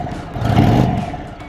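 Air-cooled Indian Chief motorcycle engine revving, a deep, full-bodied rumble that swells in one quick throttle blip and settles back, close and loud, with no talking.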